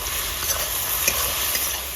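Green chillies frying in a pan, a dense continuous sizzle with faint crackles and a stir or two, close and alone without talk.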